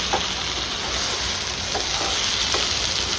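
Stuffed brinjal curry being gently stirred in a pan, a steady hiss of sizzling with a few soft, spaced spatula clinks, close and even.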